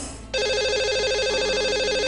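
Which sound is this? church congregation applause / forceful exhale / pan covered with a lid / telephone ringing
telephone ringing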